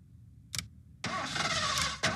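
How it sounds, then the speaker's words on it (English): A car engine cranks and struggles in a Gargoyles cartoon scene: a short burst, a pause, then a sustained rough running sound and another brief burst at the end, fairly close and without speech. "now we flash to a random couple that are having car problems"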